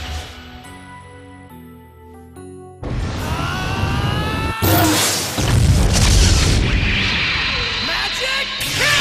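Anime magic cannon attack erupting in a huge explosion: a loud boom bursts out after a musical passage, followed by roaring blast noise and rising whooshing tones that sustain at high volume.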